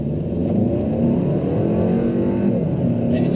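A VW Golf SportWagen accelerates hard through a turn, its engine giving a loud, steady, rising roar close by with no talking.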